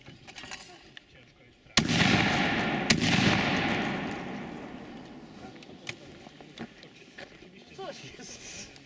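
Two sharp, loud shotgun blasts a second apart at target shooting, each followed by a long rumbling echo, with faint voices and outdoor noise around them.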